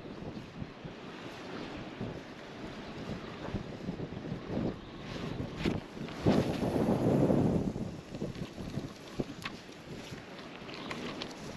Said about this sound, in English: that wind's picking right up now